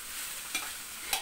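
Rice being stir-fried in a home kitchen pan for simple fried rice, a steady soft sizzle with two brief louder scrapes of the spatula, close and without talk.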